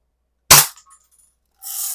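A 1930s Daisy King BB gun, just repaired, fires one sharp close crack followed by a brief rattle, then a hissy rustle near the end.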